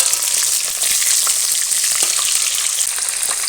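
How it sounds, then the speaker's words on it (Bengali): Silver carp pieces fry in hot oil with a loud, continuous hiss and sizzle, broken by faint crackles, close and steady throughout. "মাছগুলো এক পিট ভাজা হয়ে গেছে অপর পিঠটাও উল্টে ভেজে নেব"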